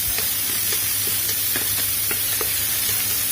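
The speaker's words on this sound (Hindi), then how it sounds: "हम इसे हल्का सा मिक्स करते हैं पहले, यानी कि भून लेते हैं।" Ginger garlic paste with chillies frying in a pan for Delhi-style butter chicken, a loud continuous sizzle and hiss broken by occasional light scrapes of a spoon as it is stirred. No one speaks.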